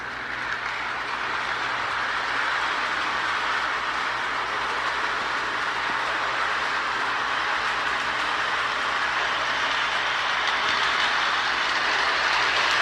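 A K-line Marx-mold S2 Great Northern switcher model train locomotive running on track, producing a steady, loud, continuous whirring rumble with faint wheel clatter that stays even throughout, with no voices.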